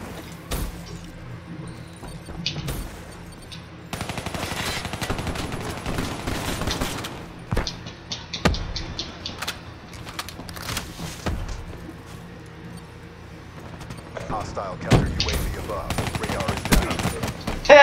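Gunfire in Black Ops 3 Shadows of Evil, with repeated loud bursts and single shots arriving in clusters, mixed with game effects and clatter, and a voice speaking in between.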